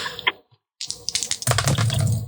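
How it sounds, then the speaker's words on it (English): Dice tossed onto a computer keyboard clatter and skitter across the keys in a quick burst of sharp clicks, close and fairly loud after a brief pause. "I like hearing the dice roll all over the place."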